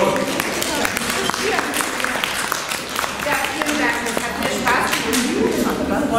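An audience at a Brandenburg women's week event in Erkner breaks into sustained applause, a busy crackle of many hands with scattered individual claps, while voices talk over it.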